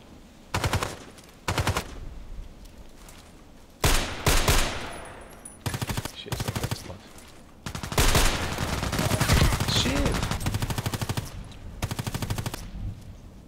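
A shooting video game fires loud automatic bursts, starting as short separated volleys and building into a sustained stretch of continuous fire before a few last bursts, with no talking.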